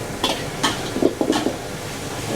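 Already-fried pork being dry-fried with garlic and chilies in a wok over a high flame, with rhythmic scraping stirs and a steady sizzle, close and fairly loud.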